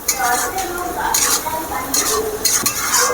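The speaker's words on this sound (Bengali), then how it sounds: "সমস্ত মশলা আমার ভাজা হয়ে গিয়েছে" Spices frying in a pan while being stirred, cooked outdoors for chicken kosha: loud close sizzling with repeated scraping strokes of a spoon against the pan throughout, no voice.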